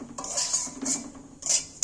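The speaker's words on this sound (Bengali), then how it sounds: "আস্তে আস্তে এইভাবে নেড়ে সুজিটাকে ভেজে নিতে হবে" A spoon scrapes and stirs semolina being dry-roasted in a metal pan for halwa, in three short bursts of gritty scraping with brief pauses between.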